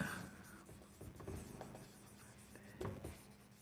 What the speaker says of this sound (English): Again we draw a perpendicular line